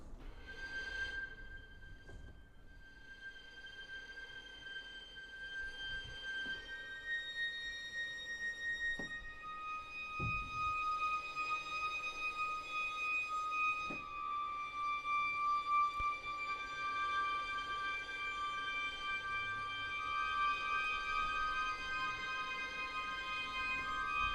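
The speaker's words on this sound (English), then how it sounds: "it sounds like this. Here's harmonics." High, glassy sustained string harmonics from a virtual instrument in Logic Pro X ring out in overlapping tones, thin and brittle, with soft background noise and a few low thumps.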